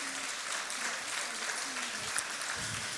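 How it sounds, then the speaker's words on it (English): A small round of applause at a 2018 USB Ignite Showcase presentation, fairly quiet and distant-sounding, with dense overlapping claps holding steady for about three seconds under room noise. "A little round of applause for Eric, please."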